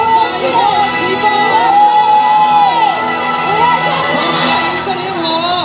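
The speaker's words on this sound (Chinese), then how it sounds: "再一次掌声尖叫" A large crowd at the Taipei 101 New Year fireworks cheers, whoops and screams loudly and without a break, with high shrieks and whistle-like cries rising above the roar.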